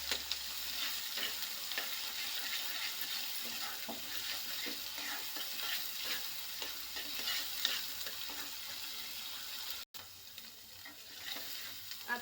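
Pea and cauliflower gravy stirred in a pan, a soft continuous sizzle with repeated faint scraping strokes, quiet and steady with a brief dropout near the end.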